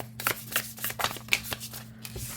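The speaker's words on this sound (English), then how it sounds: "Overhand shuffles really nicely too." A tarot deck gets an overhand shuffle: quick, close bursts of riffling card slaps in an uneven rhythm, about a dozen soft crisp packets over two seconds.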